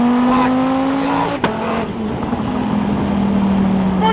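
A 9-liter twin-turbo Dodge Viper producing about 2600 wheel horsepower accelerates hard, its engine note climbing loudly and up close, then cutting sharply before a lower, rougher exhaust roar carries on.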